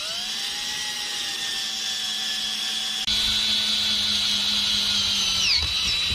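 A power drill with a 4.1mm bit whines at a steady high pitch while boring through a zinc locking bead, with the motor tone shifting as the bit bites harder partway through, then winding down at the end.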